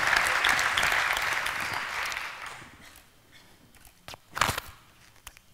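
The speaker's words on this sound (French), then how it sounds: "On peut évidemment vous applaudir encore une fois" An audience at a Masters awards ceremony in 2017 applauds for about three seconds, then the clapping fades to a few scattered claps and faint movement.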